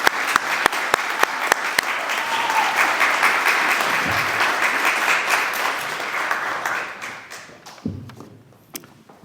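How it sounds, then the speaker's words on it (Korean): A church congregation bursts into applause at a Korean Presbyterian service for a senior pastor's retirement and installation in Montreal, dense sustained clapping from a large crowd after a few sharp early claps, fading out toward the end. "하나님께 감사와 영광의 박수를 올려드리겠습니다"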